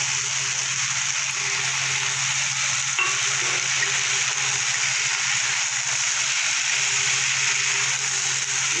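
Eggplant, pumpkin and potato frying with Malabar spinach seeds, stirred in the pan, make a loud, continuous sizzling hiss that holds steady from start to finish.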